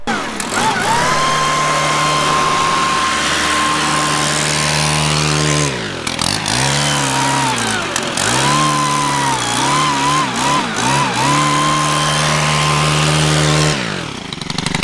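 A snow blower attachment on a new 2021 JCB Teleskid clears snow with a loud, steady engine drone and a high whine. The pitch dips and recovers several times as the load changes, close by, with no talking.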